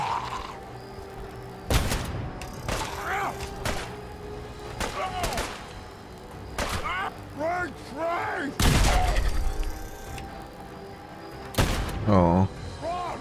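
Loud gunshots crack out in Fallout 4's Far Harbor, several sharp blasts spaced irregularly among mechanical clatter, whirring tones and voices talking between the shots.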